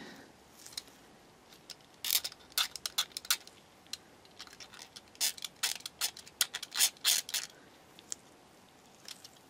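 Rapid, irregular bursts of close scraping as a plastic part of a Tamiya 1/12 scale figure kit is scraped back, crisp rasping strokes in quick clusters with brief pauses between them.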